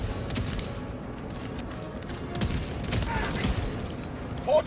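Gunfire in Helldivers 2, a steady crackling fusillade of shots with dull thumps underneath and a voice speaking over it at moderate loudness.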